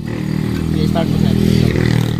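A Kia Rio engine runs with its belt removed and is revved briefly, a steady close idle that rises a little, with someone speaking over the engine.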